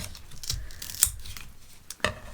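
Scissors snip through a snake plant leaf in a few quiet, close cuts, with sharp clicks spaced about a second apart and no talking.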